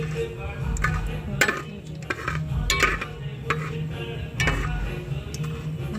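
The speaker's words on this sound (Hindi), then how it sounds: "अब इसमें राई डाल दे। राई को भूनेंगे थोड़ा सा।" Mustard seeds roasting in a pan for an aloo tikka dish, giving a steady low sizzle with light scattered ticks and pops and occasional metallic clinks of a utensil throughout.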